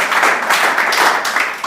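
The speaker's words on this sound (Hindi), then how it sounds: "इनके लिए ताली तो बजा दीजिए।" A classroom of students applauds their peers during an IIT-JEE coaching session, a short, close burst of dense clapping that stays fairly even throughout.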